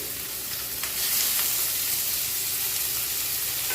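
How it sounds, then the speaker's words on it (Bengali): Chopped onion and garlic frying in hot mustard oil tempering, a dense continuous sizzle with a soft hissing crackle that swells slightly after the first second, close and steady, no talk. "ফোড়নে দিয়ে দিচ্ছি পেঁয়াজ কুচি, আর দিয়েছি রসুন কুচি"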